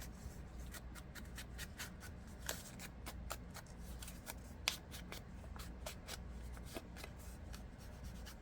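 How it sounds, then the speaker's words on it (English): Paper torn at a corner during journal crafting, heard as a close, quiet series of rapid crisp rips and crinkles in an irregular rhythm. "Let's tear that corner."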